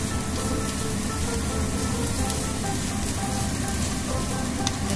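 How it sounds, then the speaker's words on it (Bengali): Coconut pitha, a sweet made with coconut and sugar, sizzling as it fries in oil in a pan. A steady, dense crackle and hiss runs close and unbroken throughout, with no voices. "এরকম করে আমরা ভেজে নিলাম পিঠাটা"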